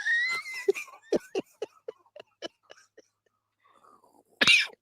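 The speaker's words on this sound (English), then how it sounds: "you making me cough" A man coughs several times in a rapid, close burst, with a harsher cough or throat-clearing near the end after a short pause.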